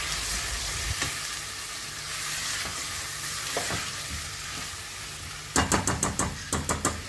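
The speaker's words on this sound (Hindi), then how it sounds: "अब ये मैंने चिकन डाल के मैं इसको फ्राई कर रही हूँ।" Chicken fries in olive oil with ginger garlic paste in a pan, a steady close sizzle throughout, then a quick series of sharp knocking taps from a utensil against the pan near the end, no talking.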